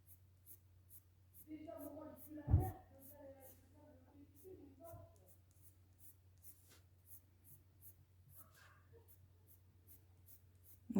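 Raspberry-colored pencil shading over the folds of a jacket drawing on paper, a faint soft scratching in short strokes with quiet pauses between.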